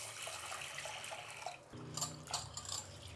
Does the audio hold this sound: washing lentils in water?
yes